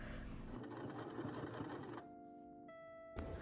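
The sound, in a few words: sewing machine stitching a dress skirt to the bodice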